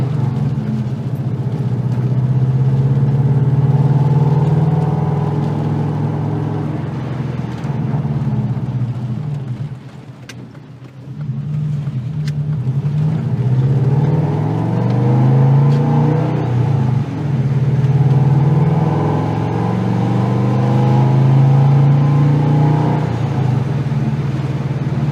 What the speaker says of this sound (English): Take the same loop that I took earlier, then we'll head for a drive down the highway.